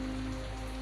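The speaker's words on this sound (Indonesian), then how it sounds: "sedikit ada percikan-percikan karena hujan ya di sini." Rain falls on a surface in a steady, soft patter over a low constant hum, with no voices present.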